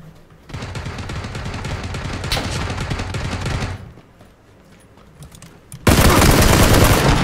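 Dense bursts of gunfire in the battle royale game PUBG, loud rapid volleys of shots that pause briefly, then resume even louder near the end, with no talking over them.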